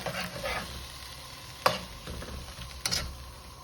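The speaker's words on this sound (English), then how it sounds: "Give it a stir." Beef in a sauce thickened with corn flour being stirred in a pan, soft scraping and a quiet bubbling sizzle with two sharp clinks of the utensil, close by and without speech.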